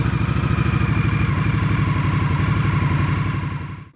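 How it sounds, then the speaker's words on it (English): Indian Scout Sixty motorcycle ridden at night, a steady loud pulsing engine drone with rapid, even firing beats that holds for several seconds before cutting off abruptly at the end, no voices. "So what's it like riding a motorcycle at night?"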